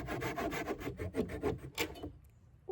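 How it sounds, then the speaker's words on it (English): A handsaw cuts a piece of wood to length in an art and sewing studio. About eight quick rasping strokes come in a steady rhythm, fairly faint and close, before they stop into near silence. "I'm gonna try to use this handsaw to cut it"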